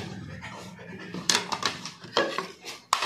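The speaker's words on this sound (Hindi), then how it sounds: "6 गो हाफ प्लेट है। 6 गो कटोरी है" Ceramic plates and bowls clink and clatter as they are handled and set down, a few sharp knocks and rattles, while someone talks underneath.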